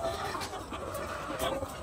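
Chickens cluck close by in short, scattered bursts over a low background murmur.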